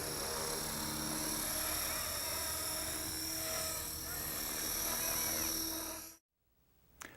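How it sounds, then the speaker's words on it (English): A radio-controlled helicopter hovers with a steady, high-pitched whine from its engine and rotors, holding an even pitch for several seconds before cutting out abruptly into near silence. "Notice the RPM. Notice how the RPM just really holds nice."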